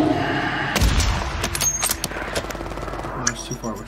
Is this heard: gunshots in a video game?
yes